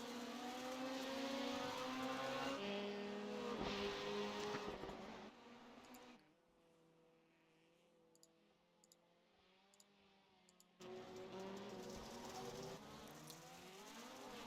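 Rallycross race cars at a NASA RallyCross event in Atlanta roar past on track, a loud, steady engine drone for several seconds, then fading to a distant hum before the racing noise swells back near the end.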